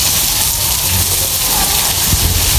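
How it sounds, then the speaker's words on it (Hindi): Heavy rain pours down outdoors during a storm, a dense, continuous roaring hiss that fills the scene, loud and close with no clear talking. "इतनी तेज़ बारिश हो गई है"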